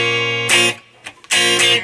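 Bright strummed guitar chords ring out close up, with sharp rhythmic strokes separated by a brief muted pause, no voices.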